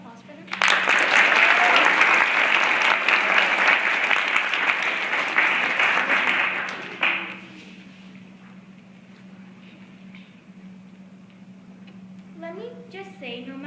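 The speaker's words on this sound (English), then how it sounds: "Can we have a round of applause for them?" An audience gives loud, sustained applause for participants at a regional intermediate speech arts final. It is dense and steady for about six seconds, then stops abruptly, leaving quiet room tone and a voice starting to speak near the end.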